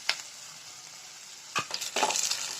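Onions sauté in a pan for a tamarind curry, giving a soft steady sizzle broken by a few sharp scraping stirs of the spoon, close and moderately quiet.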